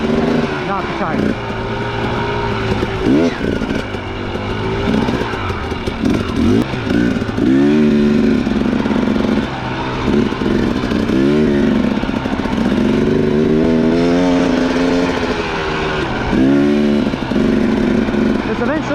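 A 2017 Husqvarna TX300 dirt bike engine revs and bogs loudly and up close along a single-track trail, its two-stroke note rising and falling continuously with throttle changes and rattling clatter.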